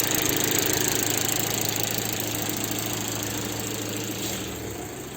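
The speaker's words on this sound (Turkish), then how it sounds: "Şimdi ısınmasını bekliyoruz. Motorun yavaş yavaş ısınıyor." A Fiat Albea 1.2 16V petrol engine idles steadily while warming up, a close, continuous, even hum with a slight rough pulsing throughout and no talking.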